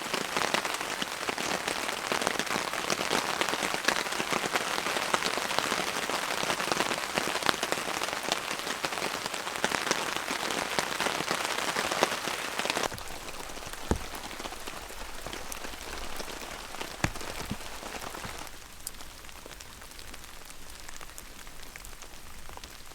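Heavy rain drums on a cozy cabin, a dense and loud hiss for the first half that then eases to a lighter, softer patter with a few scattered louder drops.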